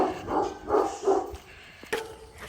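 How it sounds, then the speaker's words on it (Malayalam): A neighbour's dog near a house, giving a few short barks and yips in quick succession, then a sharper bark after a pause, moderately loud and fairly close, with no voices. "ഇത് അപ്പുറത്തെ ഷാൻഡിയുടെ പട്ടി"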